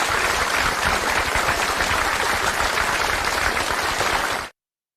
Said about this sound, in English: let us all give a big virtual applause to Mayor